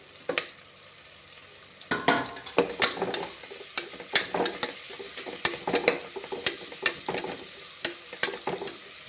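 Onions, slit green chillies and curry leaves sauté in a hot pan for coconut milk kuska, a steady sizzle with repeated scraping stirs, close and fairly loud with no talking.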